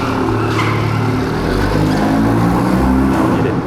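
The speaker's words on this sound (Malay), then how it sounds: "Kau dengar bunyi kereta Maserati ni, Italian sound." A Maserati Grecale SUV engine runs loud and close, a deep steady growl with swelling revs that carries throughout, and no talk over it.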